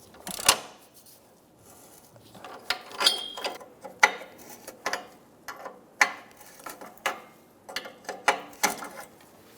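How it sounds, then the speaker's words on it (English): A ratchet with a 22mm O2 sensor socket clicks in short bursts while an oxygen sensor is loosened on a 2003–2007 Infiniti G35, crisp and close, with quiet pauses between the runs of pawl ticks. "Using a 22mm O2 sensor socket, I'm going to remove the O2 sensor."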